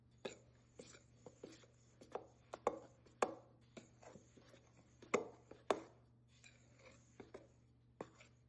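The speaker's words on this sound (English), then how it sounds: "I'm going to stir it until it's completely mixed into my other ingredients" Sugar being stirred into sifted dry ingredients for a chocolate trifle: quiet, irregular scraping taps of a utensil against a bowl, close up, with a faint steady hum underneath.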